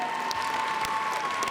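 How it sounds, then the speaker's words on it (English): An audience claps for the judges at a masquerade event, a steady wash of applause filling the room throughout without a break, moderately loud with no talk over it. "One more round of applause for our judges."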